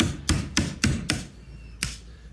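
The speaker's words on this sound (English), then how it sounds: "And then I'm going to tap it with a little hammer." A small hammer taps a roll pin out of a Mazda 3 centre console lid hinge, about six sharp metallic strikes in an uneven rhythm, close and clear with quiet gaps between.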